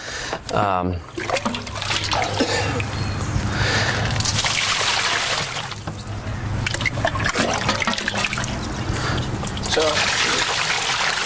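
Water pours steadily from a hose into a mash of grain for all-grain beer brewing, a continuous rushing splash heard up close with a voice talking over parts of it.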